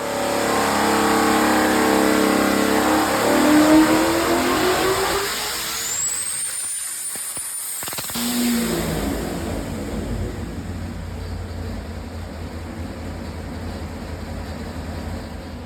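A land speed record engine, an E-gate on the compressor side, revs loudly through a rising pull, and a whine sweeps upward. The throttle chops abruptly, leaving a brief hiss and then a quieter idle that carries on.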